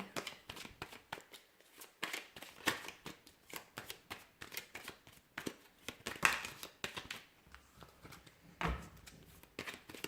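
Tarot cards are shuffled repeatedly up close, a quick run of riffling flutters and soft taps in uneven bursts, faint and intimate.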